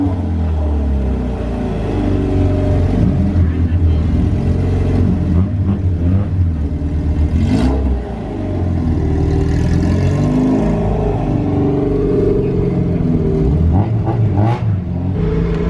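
Several racing car engines roar and rev continuously nearby, including a K24-swapped Integra and an EG hatchback, accelerating with deep rumbling tones and occasional higher whines as gears change.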